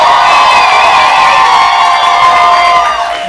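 A burlesque show audience in Sarasota, Florida cheers and whoops loudly in a dense, continuous roar of voices that holds steady for a few seconds, then begins to fade slightly at the end.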